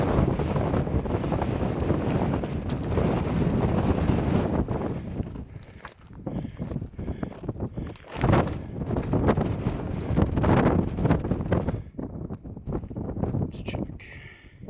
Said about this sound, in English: it just got significantly windier.